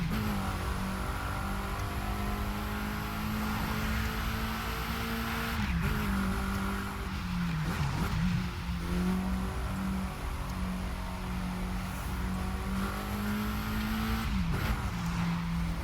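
Race car engine in The Crew 2 driving game, viewed from the cockpit, holding a loud sustained high-revving drone with brief dips at gear shifts and faint tire noise, no talk.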